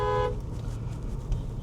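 Heavy non-stop road traffic held up for a passing VIP convoy: a short car horn toot opens, then a dense, continuous rumble of engines and tyres carries on steadily close by.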